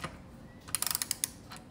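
A 12 mm exhaust bolt is tightened on a 2021 Yamaha MT09 SP: a quick run of about eight faint, sharp ratchet-like clicks, close by in an otherwise quiet space.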